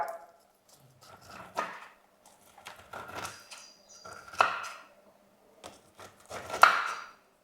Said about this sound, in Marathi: पहिला अलगद मारायचा दुसरा जरा जोरात मारायचा हे बघा असं तुम्ही कापून घ्या